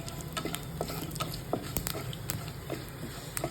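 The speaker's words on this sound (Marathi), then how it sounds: "लवंग आणि वेलची हिरवी आणि मिरे आणि जिरं आणि तेजपान आणि हे थोडं मिक्स करून घेऊया" Whole spices (cloves, green cardamom, peppercorns, cumin, bay leaf and star anise) stirred in hot oil in a pan, with a steady soft sizzle and repeated scraping, clicking strokes of the spoon.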